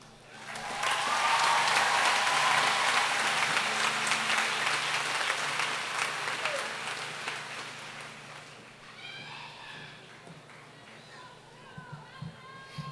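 A graduation ceremony crowd breaks into loud, sustained clapping and cheering that gradually thins out, then voices in the audience murmur and a speaker begins as the applause dies away.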